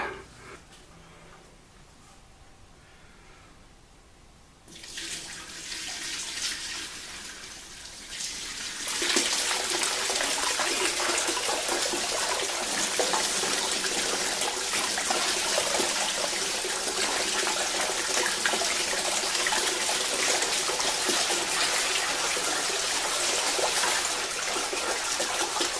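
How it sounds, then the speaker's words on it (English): Clean water running over prospecting material in winter, a steady rushing wash that starts faint, swells after a few seconds and then holds loud and continuous, with no talking. "I'm going to have to run some clean water over this"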